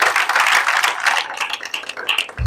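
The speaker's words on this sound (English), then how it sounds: "Clap for yourself again." Students at an anti-drug abuse campaign rally in Bomadi, Delta State, clap for themselves, a dense, continuous patter of many hands carrying through the whole short stretch.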